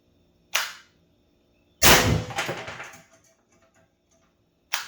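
An Umarex HDR 68 carbine running on high-pressure air fires Grimburg HP68 rounds in sharp close pops: one short shot, then a louder longer blast with rattling decay, and the start of another at the end.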